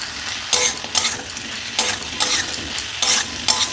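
Fried chicken 65 pakoras are tossed in sauce in a hot pan, with repeated rhythmic stirring strokes and scrapes rising over a steady sizzle, close and loud, with no voices.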